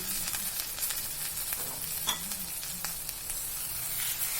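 Eggs and onions fry in a pan, giving a continuous close sizzle with scraping stirs and a few brighter pops, and no one speaks.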